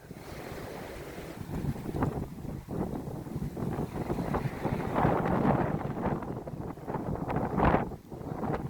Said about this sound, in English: Lots of waves over there.